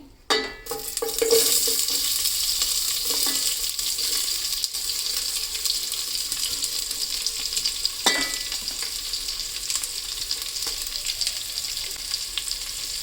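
Onions frying in a pan for chicken biriyani hiss in a continuous, strong sizzle after a sharp drop into the oil, with occasional scrapes and clinks of stirring.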